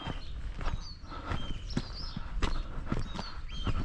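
A pit pony and a working horse's hooves clip-clop unevenly at a walking pace, fairly close, with faint chirps and outdoor background noise around them.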